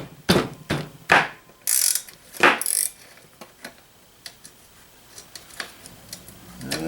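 A wrench ratchets a rusty 1/2 inch adjustment bolt in loud, close, uneven bursts of clicking and metallic clanks, then softer scattered ticks follow.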